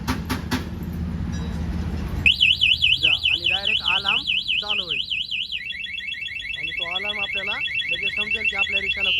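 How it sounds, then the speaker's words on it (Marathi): An auto rickshaw's anti-theft alarm blares, first a loud rapid warbling siren, then a synthesized voice saying "please don't touch" in bursts over a steady high electronic whine. "अशा प्रकारे हा अलार्मचं सिस्टम आहे"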